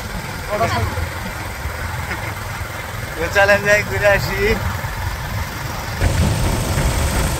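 Motorcycle engine idling and running close by on a village outing, a steady low rumble beneath several people chatting.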